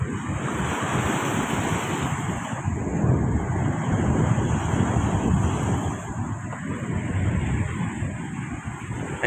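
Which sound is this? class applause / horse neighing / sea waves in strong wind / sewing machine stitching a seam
sea waves in strong wind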